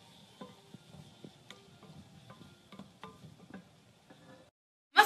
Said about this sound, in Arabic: نخلي زيت الزيتون يقدح ونضع البقدونس والبصل ونخليه ينشف